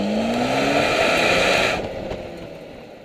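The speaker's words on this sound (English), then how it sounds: "Now how about that exhaust?" A 2013 Ford Escape EcoBoost engine roars steadily while driving with a rising exhaust note, loud and close, then eases off and drops to a lower rumble.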